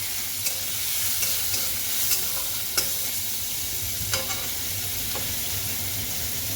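Sliced and ground onion, chopped garlic and tomato fry in a pan for an egg curry, giving a steady soft sizzle with occasional stirring clicks and scrapes, close and moderately loud, with no talking.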